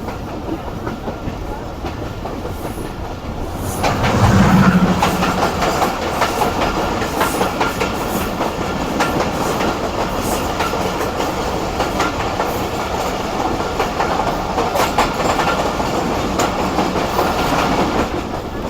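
An AG20 diesel locomotive accelerates while pulling the Shah Hussain Express: a loud, steady rumble with rhythmic wheel clatter over rail joints, swelling briefly near the start, then holding a dense, continuous roar.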